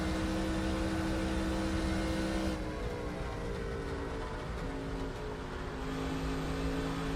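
Race car engines from NASCAR Racing 2003 drone steadily at close range, a sustained harmonic roar whose pitch shifts partway through as cars jostle around the track, with no voices.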